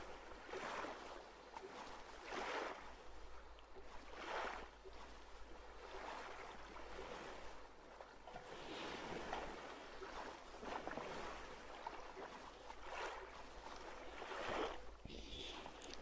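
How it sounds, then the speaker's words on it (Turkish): Ocean waves wash and swell repeatedly around a small boat sailing on the open sea in the survival game Stranded Deep, a steady soft rushing with rhythmic surges, fairly quiet and with no talk. "Denizin üstündeyim işte."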